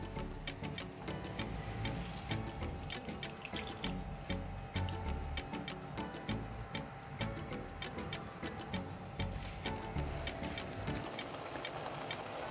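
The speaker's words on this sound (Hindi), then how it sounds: "तो लौकी पक रही है" Grated bottle gourd simmering in milk for halwa, giving a steady run of light bubbling pops and ticks over a soft wet rumble, close and continuous with no talk.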